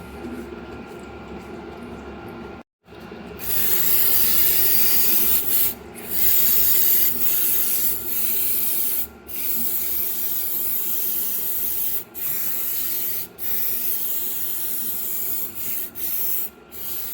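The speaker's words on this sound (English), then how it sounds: "Gonna allow the rest of the oil to finish draining into the pan" Used engine oil drains from a Toyota 4Runner into a pan as a continuous close hiss-like pour, steady and loud with a few brief dropouts.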